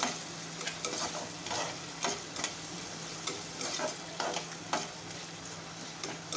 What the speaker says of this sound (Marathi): टमॅटो पण चांगला परतून घेऊया आपण.